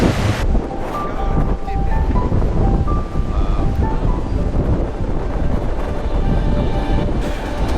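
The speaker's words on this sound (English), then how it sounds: "Whoa, look at those waves." Ocean waves crash and surge on a windy coast at the end of the Appalachian Trail in Forillon National Park, a loud, constant roar with heavy wind buffeting the microphone.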